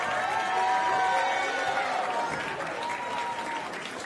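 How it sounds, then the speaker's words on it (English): Steady crowd applause and some cheering for fashion designers at a streamer university event, a thick continuous clapping roar holding at an even level with vocal whoops mixed in. "clap it up one more time, y'all"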